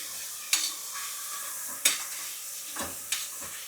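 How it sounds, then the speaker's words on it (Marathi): Chicken coated in masala fries and is stirred in a pan for a red tambda rassa curry. There is a steady close sizzle, and three sharp spoon scrapes land at regular intervals. No one speaks. "हे बघा आता याला चांगलं फ्राय करून घ्यायचं मिक्स करून घ्यायचं"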